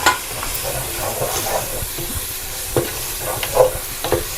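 Mint and coriander leaves stirred in a hot pan over high heat after yogurt has gone in, a close hissing sizzle with occasional scrapes and clinks of a spoon.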